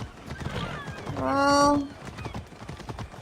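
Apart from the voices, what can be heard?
horse neighing and hooves in the video game Assassin's Creed Odyssey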